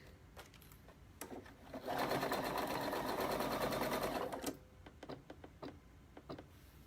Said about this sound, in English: We're just sewing right next to that edge.